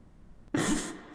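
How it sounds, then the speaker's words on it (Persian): One short, harsh cough bursts out close to the mic after a quiet moment, then trails off over about half a second with no other sound around it. "نخندیدم، سرفه کردم"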